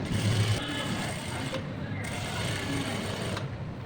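A sewing machine stitches salwar pant fabric with a quiet, steady mechanical whir, its needle ticking throughout and briefly pausing a few times.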